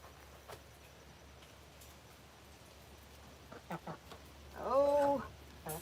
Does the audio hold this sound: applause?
no